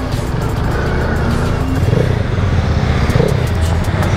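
A motorcycle engine revs and passes amid steady road traffic noise, loud and close.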